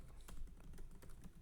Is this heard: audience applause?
no